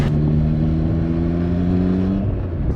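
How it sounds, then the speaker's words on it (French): A Triumph Trident 660 motorcycle engine holds a steady droning hum, with harmonics that rise slightly as it accelerates before easing off near the end. "Vas-y, accélère, accélère, là tu peux."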